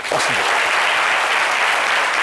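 An audience bursts into sustained applause for handmade wooden tables crafted by a carpenter born blind, the dense clapping of many hands close and steady from start to finish.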